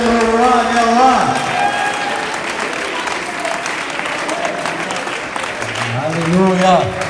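A church congregation applauds in a steady, dense wash of clapping that runs the whole time, with voices singing or calling out over it and swelling again near the end.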